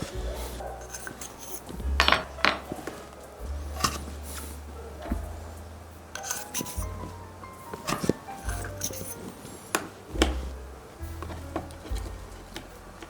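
Potatoes are cut into equal rounds with a metal cutter mold, giving sharp clicks and clacks at irregular intervals over low background music.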